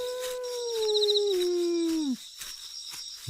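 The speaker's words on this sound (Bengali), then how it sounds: "দূরে শিয়াল ডাকছে শোন" A jackal howls at night in a rural setting, one long sustained wailing call that slides gradually downward before cutting off, heard alone in the quiet afterward.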